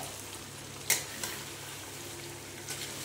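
Marinated chicken pieces frying with spices in a pan, a soft steady sizzle with one sharp clatter and a couple of lighter stirring knocks.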